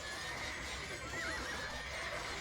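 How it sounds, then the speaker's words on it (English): Horses neigh and whinny amid battle in Age of Empires-style strategy gameplay, with hoofbeats clopping underneath; a steady, dense game soundscape with no voices. "Lots of horses died on this day."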